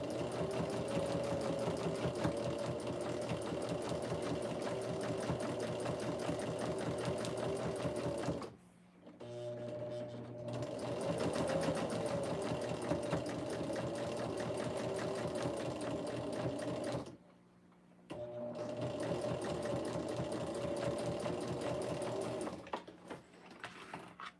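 A sewing machine stitches a quarter-inch seam through fabric in a steady, even whir, pausing twice briefly before running on, close and alone.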